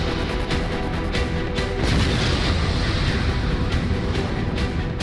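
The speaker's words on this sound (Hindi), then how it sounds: "पाकिस्तान पंजशीर पर बम बरसा रहा है" Bombs explode during an airstrike in Panjshir, a rolling series of booms and crackling blasts that blend into a dense, continuous roar.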